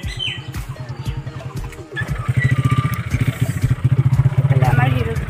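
A motorcycle being ridden on a village road, its engine putting out a steady pulsing low throb that grows louder and more regular midway, close by, with a voice talking over it and birds chirping faintly.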